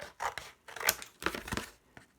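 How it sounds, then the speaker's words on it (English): Scissors cut through thin cardboard from the back of a cereal box: a few close, crisp snipping and crunching cuts in quick succession with short pauses between, and no talking. "with a pair of scissors, we'll just quickly cut that out."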